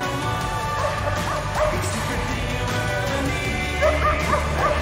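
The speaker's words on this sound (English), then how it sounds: "Look how happy these dogs are." Dogs at the Crufts 2019 dog activities display give a few high yips and barks over a constant arena crowd hubbub, with a couple of sharper calls near the middle and the end.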